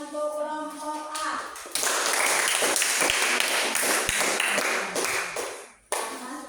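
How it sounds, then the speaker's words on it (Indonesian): A classroom of students claps for a presenting group, a short burst of dense applause with a few sharp louder claps, ending abruptly, with a teacher's voice heard before and after. "Coba tepuk tangan untuk kelompok A."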